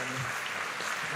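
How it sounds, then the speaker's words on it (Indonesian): Applause from the congregation at an AOG youth church service, a dense, steady patter of clapping filling the whole brief moment at even volume. "so let's give them a great Kasih mereka hand"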